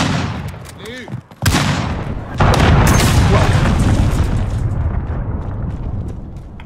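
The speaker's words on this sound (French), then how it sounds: "Grenade flash" A flashbang grenade goes off in Call of Duty: Modern Warfare, a sudden loud broadband blast that leaves a long, dense ringing roar. Faint game sounds come before it, and there is no talk.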